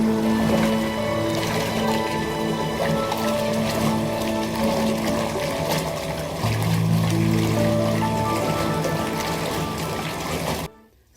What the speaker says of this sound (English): I'm going to go ahead and let the water keep running, and I'm going to aerate the water using my hands in a side-to-side motion